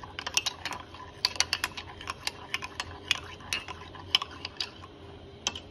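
A spoon stirs a coffee mixture into milk, quick repeated clinks and scrapes against the cup in an uneven rhythm, close up, with a low background hum and no talking.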